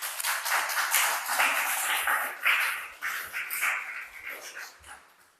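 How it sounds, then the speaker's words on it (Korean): Church congregation clapping during a Korean Sunday worship service, a continuous burst of many hands applauding together for several seconds, fairly close, then tapering off toward the end. "박수"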